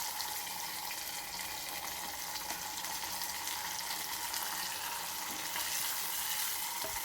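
Chopped onion sautéing with garlic in cold-pressed oil for a kuzhambu, giving a soft, continuous frying sizzle that stays even throughout, with no talk.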